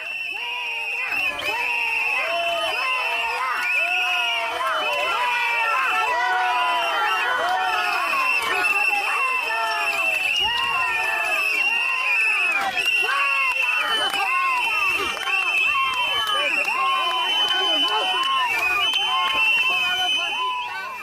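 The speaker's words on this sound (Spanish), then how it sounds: "los abucheos y los gritos que dedicaban al dirigente socialista" A large political crowd boos and shouts at Spanish Prime Minister Pedro Sánchez during a visit, a dense, continuous roar of jeers and yelled voices held at steady volume throughout.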